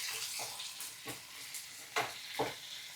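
Onion chutney with jaggery bubbling and frying in a pan, a steady close sizzle broken by several soft stirring scrapes, with no voices.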